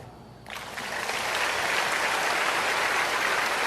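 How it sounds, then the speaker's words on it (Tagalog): Applause at a religious healing service swells quickly from quiet into a steady, dense clapping of a sizeable crowd that continues without letting up. "Palakpak."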